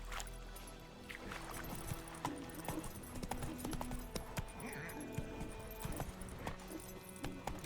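Horse hooves trotting in The Witcher 3 next-gen video game, a brisk, continuous clip-clop close by, with faint voices and background sounds around it.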